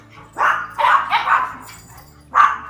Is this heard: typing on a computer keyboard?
no